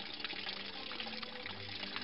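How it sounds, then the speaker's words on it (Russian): Water from a holy spring in Altai runs out from deep under Tserkovka mountain, a soft, continuous trickling and splashing that stays quiet and even through the brief moment, with no voices. "Она бежит из глубины, из-под горы Церковки,"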